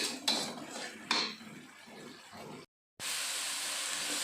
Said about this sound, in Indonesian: Kita tumis dulu ya sampai wangi.